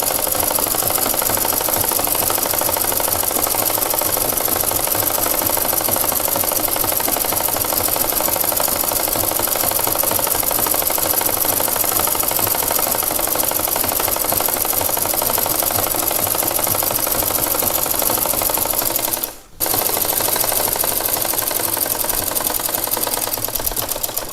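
A sewing machine stitching a one-inch border strip onto a petticoat, a fast steady mechanical whir and rattle running continuously at close range, with one brief pause near the end.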